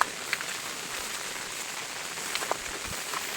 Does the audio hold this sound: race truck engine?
no